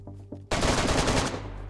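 A full magazine emptied in a rapid burst of automatic gunfire in the survival game DayZ, loud and continuous after a couple of faint clicks, then tailing off into echo.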